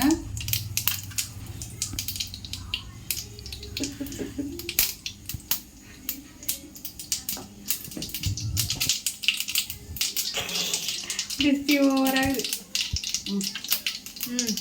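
Mustard seeds splutter in hot oil in a kadai, making dense, rapid crackling pops that run steadily and loudly while someone talks over them at times.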